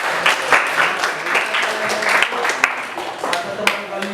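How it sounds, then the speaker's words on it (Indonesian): Students in a high school classroom at SMA Negeri 1 Salak give a short burst of scattered hand clapping, near and lively, with voices talking over it. "bagus Lena, tepuk tangan dulu Lena."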